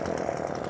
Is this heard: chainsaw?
yes